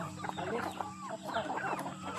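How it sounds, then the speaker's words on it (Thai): A group of young hens, about four to five months old, clucks and trills continuously, overlapping soft calls close by over a low steady background hum. "นี่เป็นไก่สาว"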